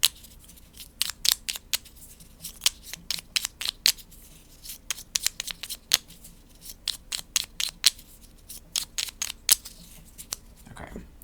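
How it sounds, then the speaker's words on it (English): Board game tiles being shuffled during a solo tabletop game of Galileo Galilei: a rapid, irregular series of sharp clacks and rattles, close and fairly quiet, continuing throughout with brief pauses. "Okay, shuffle up his tiles."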